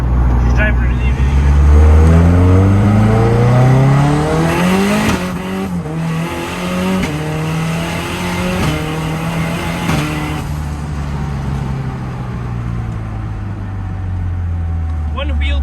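A Mazda RX-7 FD drag car fitted with drag suspension accelerates hard, its rotary engine screaming up through gears with sharp rev climbs and tire squeal, a loud, close roar with a voice faintly audible underneath.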